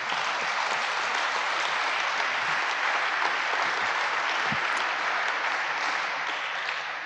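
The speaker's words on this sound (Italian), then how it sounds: "Vi ringrazio dell'applauso" Sustained audience applause at a book talk, an even wash of many hands clapping at moderate distance, steady from start to end with no voices.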